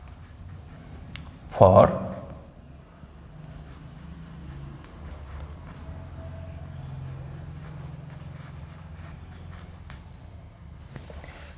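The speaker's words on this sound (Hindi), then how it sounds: "तो हम यहां लिख देंगे बाय" A pen scratches across paper in soft, intermittent strokes near the microphone, with one brief louder knock, while a person speaks steadily over the writing.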